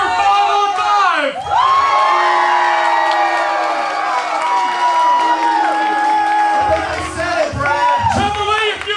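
Loud, sustained crowd cheering with whoops and shouts at a CWF Mid-Atlantic wrestling show, filling the hall nearly throughout with rising and falling yells.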